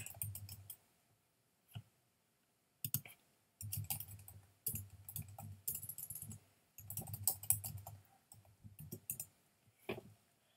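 Bursts of fast clicking keystrokes on a computer keyboard, close and fairly quiet, coming in irregular runs separated by short pauses.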